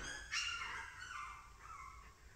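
A puppy whimpers and yips in a few short, high, thin cries, faint and close in a quiet room.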